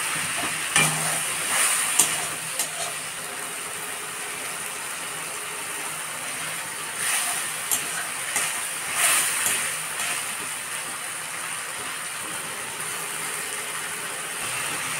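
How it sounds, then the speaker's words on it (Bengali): Spice paste with chili powder and tomato being stir-fried for a taro dish, giving a steady soft sizzle with scraping and clinking of a spoon against the pan in several short bursts, close by and with no talking. "দিয়ে ভালো করে মশলাটাকে কষে নেব।"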